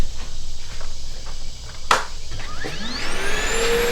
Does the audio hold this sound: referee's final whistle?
no